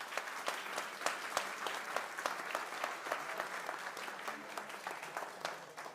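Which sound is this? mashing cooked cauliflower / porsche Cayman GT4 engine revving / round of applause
round of applause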